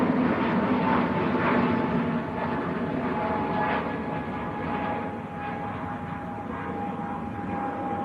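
An Airbus A320neo in Neo livery at Manchester Airport gives a steady, moderately loud jet engine roar. The roar holds at the same level throughout and eases slightly toward the end, with no talking.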